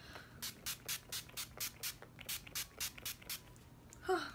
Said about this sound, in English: I will go ahead and spray my whole entire face with this after the fact